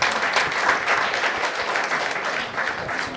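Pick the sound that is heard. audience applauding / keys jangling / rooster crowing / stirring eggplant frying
audience applauding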